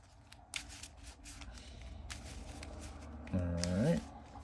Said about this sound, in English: We'll shuffle this up.